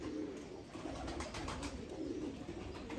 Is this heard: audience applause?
no